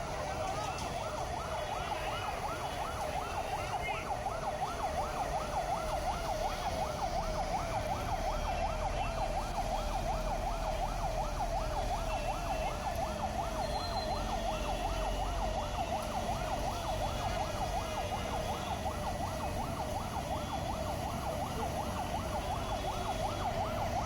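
Fire engine sirens wail continuously at a large fire in a clothing store near Jubilee Hills Metro Station, a steady rapid warbling tone over traffic and street noise.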